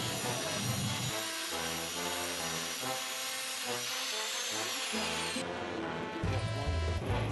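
A power drill bores holes in square iron rods, a steady whirring with shifting pitch that cuts out briefly and restarts louder near the end, close by with no talk.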